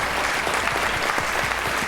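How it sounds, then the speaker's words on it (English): A school event audience breaks into a short burst of dense, continuous clapping from many hands, heard alone and fairly loud. "So can we give her a loud round of applause as well?"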